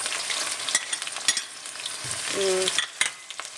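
Eggs and onions frying in a pan, a steady bright sizzle crackling throughout with a brief tonal clink partway through, close and fairly loud, no voices.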